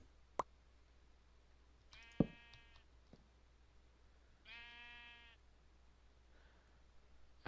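Sheep in the Slime Survival video game give two separate nasal bleats, fairly close and clear against quiet, with a few sharp clicks scattered around them.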